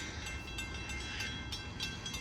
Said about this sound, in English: Train 47 from Speonk to Jamaica with 502 and 515.